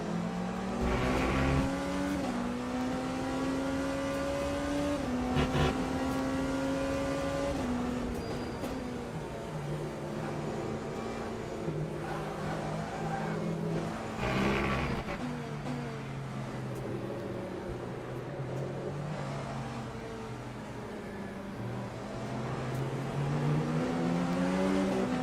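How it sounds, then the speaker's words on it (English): Hypercar engine in the racing sim Le Mans Ultimate, howling steadily through gear changes with rising and falling pitch as the car rounds a fast turn, loud and continuous for the whole stretch. "going around a fast turn in a hypercar"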